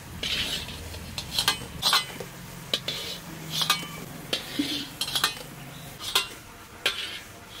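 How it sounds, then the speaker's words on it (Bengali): Palm fritters being lifted from hot oil with a metal spatula, giving repeated sharp clinks and scrapes against the pan over a faint background sizzle, with no talking. "ওই জন্য আজকে খুন্তি দিয়ে তুলতেছি।"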